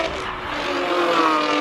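A race car climbs during a qualifying run at a Cape Town hillclimb, its engine note holding steady and rising slightly over a brief stretch, loud and fairly close with a hint of tire noise.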